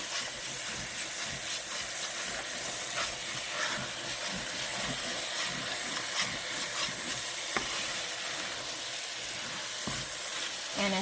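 Liquid cooks out of a shepherd's pie meat filling in a hot pan, a loud, steady sizzle and hiss with crackling spatters running throughout, no voices.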